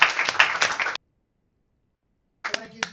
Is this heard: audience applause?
yes